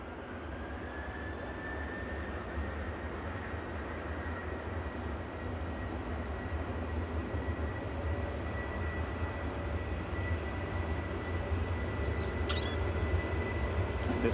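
A six-year-old Boeing 737-800 jet airliner at Manchester Airport gives a steady, distant broadband roar with a faint engine whine, holding level throughout with no voices.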